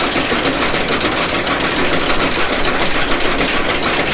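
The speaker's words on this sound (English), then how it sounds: "Most of the noise from the heads from the cutter bar chatter." A Gleaner combine harvester's cutter bar, in need of grease, runs with a rapid, rattling mechanical chatter over a steady engine drone, loud and close.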